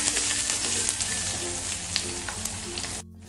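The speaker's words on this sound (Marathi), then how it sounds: "इथे मी एक मध्यम आकाराचा कांदा उभा चिरून घेतलाय, तो तेलावरती घालूया." A medium onion, sliced lengthwise, goes into hot oil in a pan for a village-style pigeon pea curry. It crackles and sizzles steadily with a few sharper pops, then cuts off abruptly near the end, with no talking.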